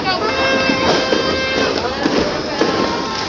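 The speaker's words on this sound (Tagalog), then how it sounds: "Dami ng fireworks." Dense New Year's Eve fireworks crackle and pop continuously in the background, with people talking over the noise.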